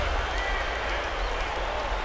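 Crowd buzzing and applauding in an NBA 2K12 basketball video game after a dunk, a steady loud roar of cheering and clapping throughout with a commentator's voice mixed in.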